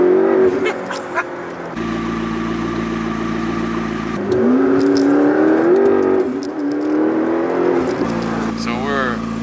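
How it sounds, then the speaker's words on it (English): A McLaren MP4 sports car engine idles and revs in loud, rising and falling pulls close by, with voices talking over the motor at the start. "So we're on scene with the Mclaren MP4."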